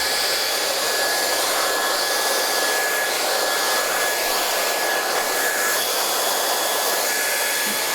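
A hair dryer blows loud and steady, close by and uninterrupted, while styling hair for a voluminous blow dry.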